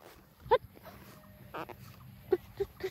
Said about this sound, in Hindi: दूर कुत्ता है,